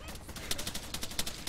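Gunfire in the video game Arma 3: a rapid string of sharp shots with two louder bursts standing out, crackling over a steady background hiss.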